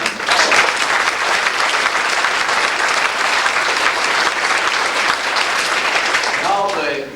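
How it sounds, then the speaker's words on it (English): Sustained audience applause at a 2001 winter sports awards ceremony, dense steady clapping filling the room for several seconds before tapering off at the end. "Give him a round of applause."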